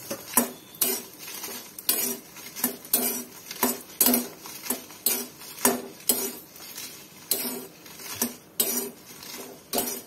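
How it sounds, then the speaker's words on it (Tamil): Dried red chillies are roasted in a little oil in a pan for a garlic podi, heard as brisk, rhythmic scraping and tossing strokes of a spatula against the metal, close and without talk. "இப்போ எண்ணெய் சட்டியில கொஞ்சமா எண்ணெய் விட்டு அதுக்கு அப்புறம் அந்த காய்ந்த மிளகாயை போட்டு முதல்ல வறுத்துக்கணும்"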